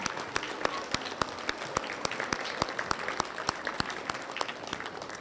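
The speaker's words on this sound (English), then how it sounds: "give yourself a round of applause for all of your hard work" Applause from an audience at a school quarter awards assembly, steady and sustained with many overlapping claps and a few sharper nearby ones, no talk over it.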